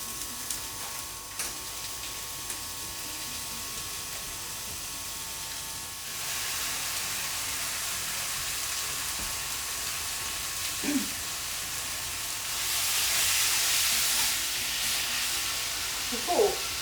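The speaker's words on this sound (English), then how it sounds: "It's definitely sizzling." Chicken sizzles in a hot pan with onions and garlic, a steady, faint hissing crackle that swells louder partway through, and occasional light clinks nearby.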